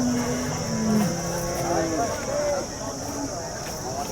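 Cows low in several drawn-out moos amid a busy outdoor crowd at a cattle market in Sangola, Maharashtra, with people talking nearby and a steady high hum in the background.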